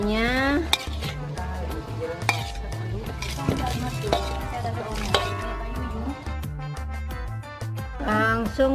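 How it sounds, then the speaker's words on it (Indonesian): A utensil stirs koro beans with spices in a metal pan, giving busy clattering scrapes and clinks over a soft sizzle, steady and close throughout. "Kita campur dengan"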